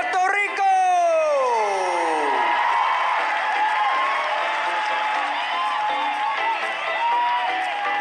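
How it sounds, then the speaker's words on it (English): Pageant audience cheering and applauding loudly for Miss Grand Puerto Rico as she is called into the top 20, a sustained roar of crowd noise with whoops rising over continuous clapping. "please give a huge round of applause to"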